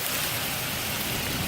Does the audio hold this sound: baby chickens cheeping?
no